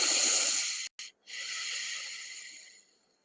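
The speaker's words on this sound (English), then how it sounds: "just breathe through the left channel or the left nostril. This is called lunar breathing" Close, airy breath drawn and pushed through one nostril, a long hissing exhale, a brief pause and a short sniff, then a second long breath that fades out.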